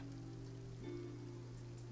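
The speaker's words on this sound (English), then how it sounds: "Looks like rain." Steady rain falling in the video game Genshin Impact, a soft continuous patter over a low hum, with no voices.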